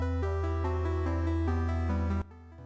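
Procedurally generated electronic synth music made in JavaScript, with a steady low drone under stepping melodic tones, several layered sequences moving together before thinning out near the end.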